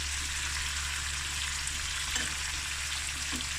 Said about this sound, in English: now I'm going to fry this for about 5 minutes